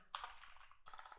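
Fast typing on a computer keyboard, a quick run of soft key clicks close to the mic, pausing briefly before another burst of keystrokes.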